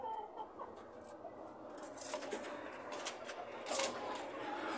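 A gamefowl rooster clucks intermittently in a breeder's gameyard, with short bright calls scattered over a steady outdoor background and no talk.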